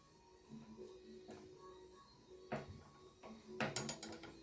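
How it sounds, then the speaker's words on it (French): Feider radial miter saw head swung on its pivot after the clamp is loosened, giving scattered mechanical clicks and ratchety clunks, with a louder burst of metallic rattling near the end, close and moderately loud, no talk. "vous desserrez et vous appuyez la petite manette ici, hop, et vous allez pouvoir faire pivoter votre appareil."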